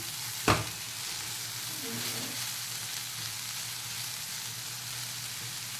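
Spiny gourd (kankoda) frying in a pan, a steady soft sizzle that continues throughout, broken by one sharp knock of a utensil early on and a brief scraping stir in the middle.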